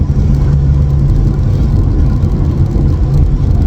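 A VW Passat with the PD150 diesel engine drones through its exhaust under load, a loud, steady low hum and rumble that holds constant without talk.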